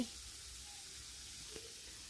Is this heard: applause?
no